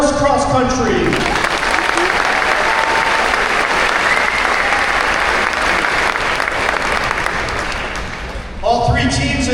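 A crowd in a school gym applauds the girls cross country team at a fall meet-the-teams night, with loud, sustained clapping that fills the room and then fades as a voice comes in at the end.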